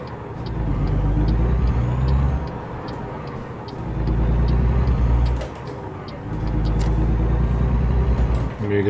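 A Peterbilt truck engine in American Truck Simulator, a loud, steady low drone that swells and dips in repeated cycles as it drives, with a faint rattle and tick on top.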